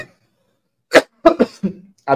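A person coughs several times in short, sharp bursts close to the microphone after a moment of quiet, with no talk in between.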